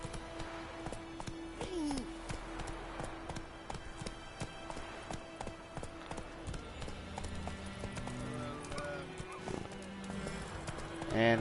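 Roach the horse trotting in The Witcher game, a fast, even clip-clop of hooves running continuously under game ambience, with brief neighs and a swell of sound at the end.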